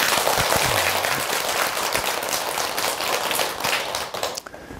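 A temple congregation at a regular Buddhist dharma service claps together in a dense, loud burst of applause that carries on for several seconds and tapers off at the end.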